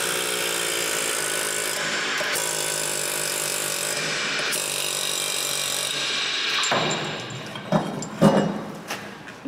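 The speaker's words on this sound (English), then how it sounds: "However, I've got an air chisel," A rapid pneumatic air chisel hammering on a Volvo V50's rear brake runs continuously with brief pauses, loud and close, ending in a few sharp metallic clanks.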